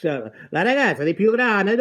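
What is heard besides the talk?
No everyday noise stands out behind the speech.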